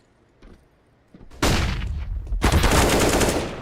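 Video game gunfire during a competitive match: a couple of faint early shots, then two loud, dense bursts of rapid fire close to the listener.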